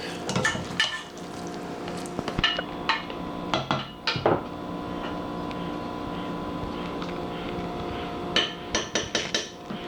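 Lobster egg noodles and cheese get tossed in a metal pot, with sharp clanks and scrapes of utensil against pot arriving in irregular bursts over a soft background hum.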